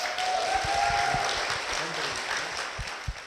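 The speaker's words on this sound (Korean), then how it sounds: "하나님의 선물 같은 남편, 우리 엄한수 권사님이 나와 계십니다. 박수로 모시겠습니다." Moderate applause from a church congregation welcoming a husband to the stage, steady clapping under a faint background tone, fading slightly toward the end.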